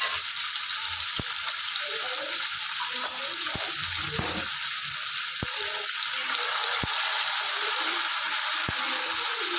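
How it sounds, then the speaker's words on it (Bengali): Boiled chickpeas fry in hot oil with salt, giving a continuous bright sizzle. Sharp clicks and clatters of a utensil against the pan come through now and then. "তাহলে ছোলাগুলোকে একটু লবণ দিয়ে ভেজে নেব"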